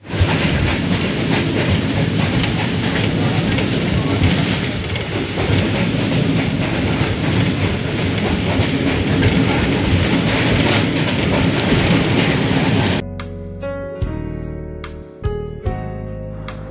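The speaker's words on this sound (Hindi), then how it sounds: "चल पड़ी है यहाँ पे ट्रेन हमारी, चल पड़ी है, चल पड़ी ट्रेन" A passenger train running from Karachi to Lahore keeps up a loud, steady rumble and rattle of wheels on the tracks for about thirteen seconds. Then the roar drops away, leaving quieter clanks and hum with a few sharp knocks.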